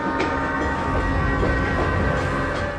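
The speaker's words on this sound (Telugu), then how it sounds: "ట్రైన్ స్టేషన్ నుంచి బయలుదేరింది" A train leaving a station rumbles steadily nearby with a constant low mechanical roar and faint rhythmic clatter of wheels on the track.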